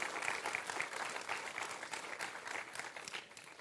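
A conference audience on learning to swim gives fairly quiet applause, a continuous patter of many hands that slowly thins toward the end.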